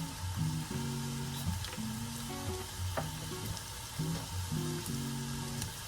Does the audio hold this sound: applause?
no